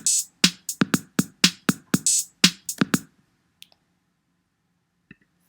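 A sharp electronic beat of about a dozen crisp clicking hits from a BandLab drum machine in quick even rhythm, then stops, leaving near silence with a couple of faint ticks.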